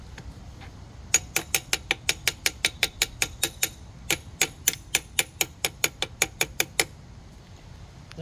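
Sharp metallic taps ring out as a kickstarter part is knocked into place on a 1985 Honda XR80R dirt bike, about two dozen crisp, evenly spaced strikes in two bursts with a short pause between.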